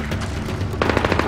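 Gunfire erupts in the video game Splinter Cell Blacklist, starting as a low rumble and then turning into a rapid, close burst of automatic shots over a dense background of battle noise.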